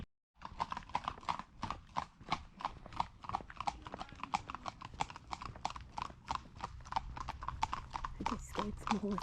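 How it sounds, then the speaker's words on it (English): Steady rapid clip-clop of startled horses' hooves on a hard mountain road near Pontypridd, Wales, many strides in a quick rhythm, fairly near, with a voice talking over it. "I just scared some horses."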